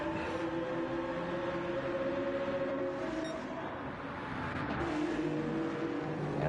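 Several GT3 race cars in a racing video game drive bunched together in an open qualifying session, their engines droning steadily in a dense, continuous roar with overlapping tones and no talk.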